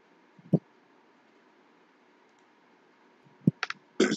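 Mouse clicks while installing Blue Prism software on a computer: a single sharp click, a long quiet gap, then a short cluster of several quick clicks, close and crisp against a faint background hiss.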